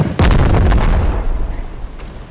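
A loud explosion in the video game Animal Company booms out abruptly, with a heavy blast that decays into rumbling debris over a couple of seconds and a faint pop near the end.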